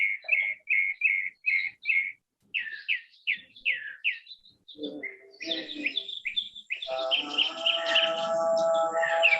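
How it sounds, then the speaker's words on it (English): Bright, clear bird chirps repeat in a quick rhythmic series, then overlapping calls and a lower cooing join in, and steady dense birdsong follows. "I hope you can hear the songs of the birds."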